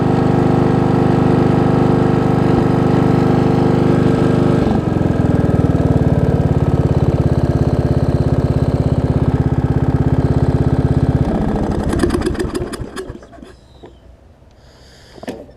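A $40 Craftsman riding mower's small engine runs steadily nearby with a loud, even drone for about eleven seconds, then drops away and shuts down, leaving a few faint rattles and clicks.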